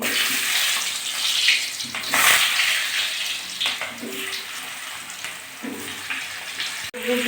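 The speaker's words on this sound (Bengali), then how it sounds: "কড়াই বসিয়ে দিয়ে তেল দিয়েছি গরম হয়ে গেছে আলুগুলো দিয়ে দিচ্ছি" Potatoes drop into hot oil in a wok, giving a loud, steady broadband hiss and sizzle that runs throughout at close range, with a few brief clinks near the end.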